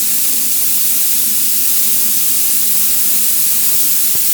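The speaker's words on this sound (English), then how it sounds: "So let's turn on the fans and let's get spraying." A spray gun laying down car paint in a workshop with the fans running, giving a steady, loud, broadband hiss that holds unbroken from start to finish.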